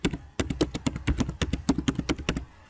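Someone types a company name into a search box on a computer keyboard: a quick, steady run of close, crisp key taps for about two seconds, then it stops.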